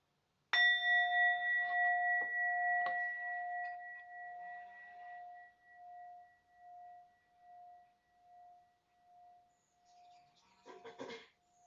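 A meditation bell rings out once, its steady pure tone fading gradually over about ten seconds, with a few light taps early on and some brief rustling as the ring dies away.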